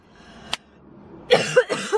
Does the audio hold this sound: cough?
yes